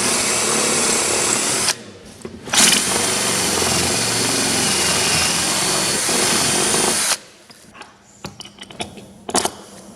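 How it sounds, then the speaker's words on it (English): A power drill runs in long steady bursts while driving bolts into a structure, loud and close, the whirring broken by short pauses and a few shorter taps and clicks near the end. "Then we can just bolt the rest. Yep. Drill and bolt."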